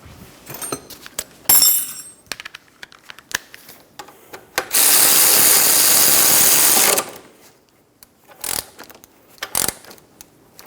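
A nut is tightened onto the ball joint of a 2003-2007 Honda Accord front lower control arm: clicking metal handling and ratchet taps, then a loud sustained burst of a power tool for about two seconds, followed by quieter clinks.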